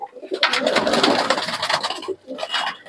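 A Giribaz pigeon cooing close by, several throaty rolling coos in a loud burst with a short pause before another call.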